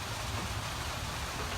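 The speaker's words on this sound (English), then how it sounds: "It's been raining all morning." Steady rain pours outside, a dense, even hiss of drops on surfaces holding constant throughout, with no voices over it.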